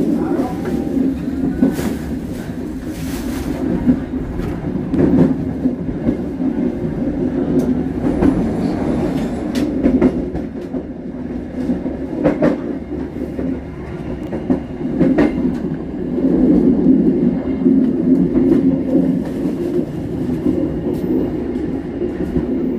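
Rail ride on an Indonesian double-track line near Cicalengka, a loud continuous rumble of wheels on track with recurring clicks and clanks, with voices talking quietly underneath.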